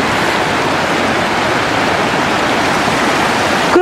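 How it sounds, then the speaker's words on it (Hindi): A mountain stream in Sikkim rushes past close by, a loud, steady, dense roar of churning water with no breaks and no voices. "आपको आवाज़ आ रही होगी कितना ज़्यादा साउंड है पानी का।"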